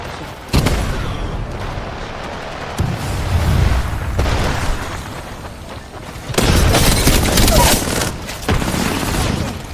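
Gunfire and explosions in the video game Apex Legends, with loud bursts of shots and booming impacts in dense clusters, and a voice speaking over the combat.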